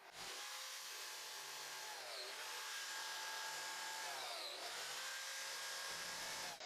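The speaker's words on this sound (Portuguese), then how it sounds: "prendi a tábua e cortei um encaixe em cada ponto da linha" A biscuit joiner whines steadily while cutting slots into clamped wooden boards for a TV rack, the motor pitch dipping twice as the blade plunges in, loud and close with no talk.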